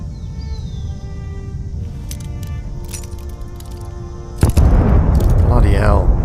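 A loud explosion impact hits partway through after a stretch of steady game ambience with light clinks, a big broadband blast that rumbles on in Fallout 76.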